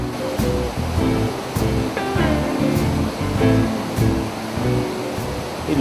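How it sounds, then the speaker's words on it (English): Water cascading over the weir at Cunnamulla, a steady loud roar of falling water with a rushing, surf-like wash that swells and eases throughout, with no voices. "At Cunnamulla the water was cascading over the weir"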